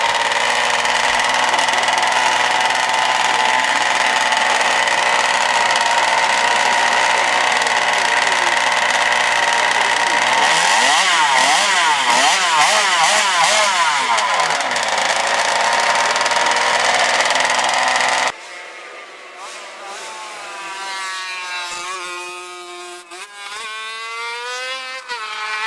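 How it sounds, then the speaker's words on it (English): A high-revving two-stroke V4 racing motorcycle engine runs loud and steady, then rises and falls through sharp revs before cutting to a thinner, fluctuating whine. "It still was a V4 engine, so we had one of the smallest cylinders ever used in a motorcycle, revving over"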